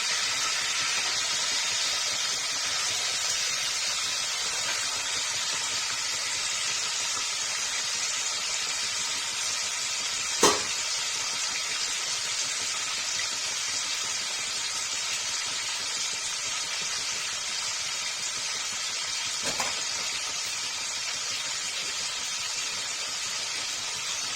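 Paneer fries in a pan in a home kitchen, a steady, moderate hiss with two brief clicks partway through and no voices.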